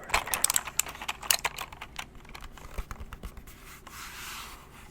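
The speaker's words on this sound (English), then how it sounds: "interested in this little keyboard here?" Fingers tap quickly across a small computer keyboard in an ASMR setting, a close, crisp run of clicks with bursts and short pauses, then softer scattered keystrokes.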